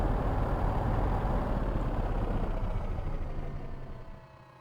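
A FlyingIron P-38 Lightning engine in Microsoft Flight Simulator rumbles loudly and steadily, then winds down and fades out over the last second as it shuts off.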